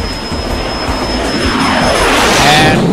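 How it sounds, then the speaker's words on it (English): A small aircraft's engine roars loudly and steadily as it climbs out after takeoff, with the tone rising toward the end. "And we have rotation, gear coming up,"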